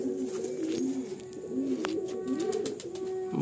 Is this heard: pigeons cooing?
yes